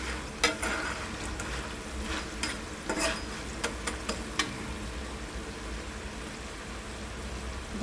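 Potato slices frying in oil in a pan for sabudana khichdi, a soft steady sizzle with sharp clicks and scrapes from stirring scattered through, fairly quiet.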